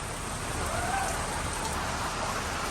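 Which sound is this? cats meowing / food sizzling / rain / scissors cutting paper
rain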